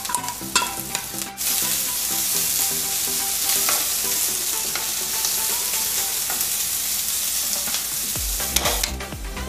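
Chopped onion fries with garlic-ginger paste in a hot pan, a loud steady sizzle with frequent spoon scrapes from stirring, close and without talk.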